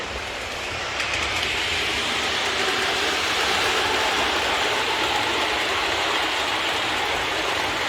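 A Lionel B&O 9013 toy switcher locomotive runs steadily along the track, giving off a continuous rumbling, whirring roll that holds even and fairly loud throughout with no talk.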